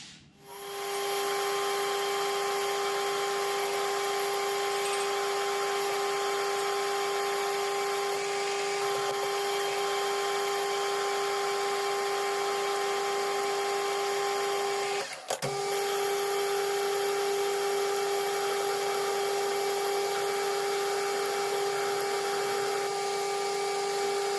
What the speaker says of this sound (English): use an end mill to put the concave in the end of it to match this radius